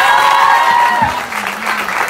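Dense, steady clapping from an audience at a motivational speech event in Ranchi, loud and close, continuing throughout with a voice faintly under it.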